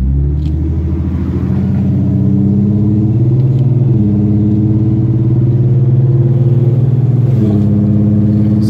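A loud 4.0 V6 Ford Mustang cruises at about 2000 RPM with the windows down, its deep, steady engine rumble swelling slightly and then settling back, close and with no talking.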